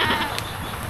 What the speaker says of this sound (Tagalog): So yun yung mga kambing nila, makita natin.